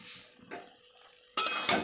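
Fish head and taro leaves stirred in a pan, cooking down dry, with a quiet scrape at first, then two sharp loud clanks of a utensil against the pan and a brief sizzle.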